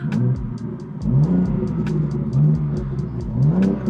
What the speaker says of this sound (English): The car also sounds very, very good in interior as well.